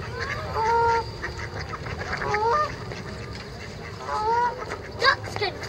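A swan gives several loud, nasal honks in short bursts, close by, with a voice talking in the background.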